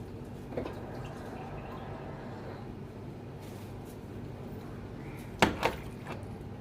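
A little water is poured into a cooking pot of chicken to bring it to a boil. It makes a soft, steady liquid wash, with a couple of sharp metallic clinks near the end.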